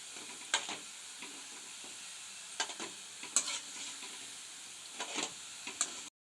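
Marie Gold biscuit gulab jamun balls sizzle steadily in hot oil while being gently stirred and turned, with a few soft scraping clinks over a constant low frying hiss.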